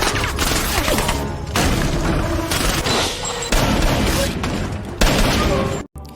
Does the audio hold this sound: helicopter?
no